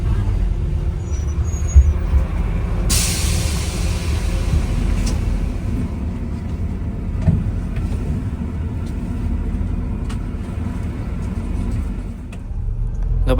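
Double-decker bus pulling away from Kulim terminal in Malaysia, with a loud hiss of air brake release near the start over a heavy, steady low engine rumble that continues as it departs.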